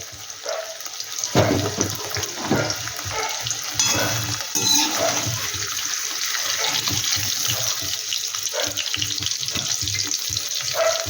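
Fried paneer lifted from the pan and dropped into hot water, heard as a loud splash and bubbling followed by steady watery sizzling and light clinks, close and without talk.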